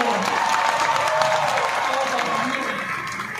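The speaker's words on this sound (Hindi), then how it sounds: "तो स्वागत में जोरदार ताली बजाइए." An audience claps in welcome at a school academy's 30th-anniversary celebration, a broad, continuous round of applause with a murmur of voices and faint cheering mixed in, easing slightly at the close.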